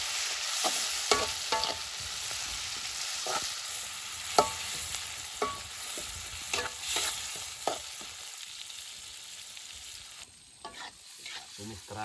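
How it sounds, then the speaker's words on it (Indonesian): Shrimp paste (terasi) is stir-fried at a riverside campsite, sizzling steadily in the pan while a utensil scrapes and taps at irregular intervals. "Tumis terasi teman ya."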